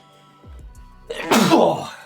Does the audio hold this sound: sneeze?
yes